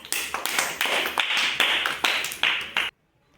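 A group of children claps together in a classroom, with a burst of brisk, fairly even claps lasting nearly three seconds, close and loud, before it stops abruptly into silence.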